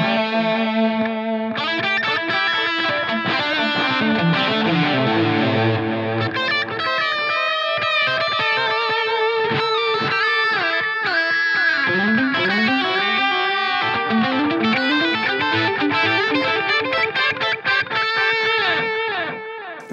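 Electric guitar playing chords and melodic lines through a Line 6 Helix transistor tape delay modeled on a Maestro Echoplex EP-3, set with heavy wow and flutter, half mix and quarter-note repeats, giving a dense, wavering, continuous wash of echoes with no talking.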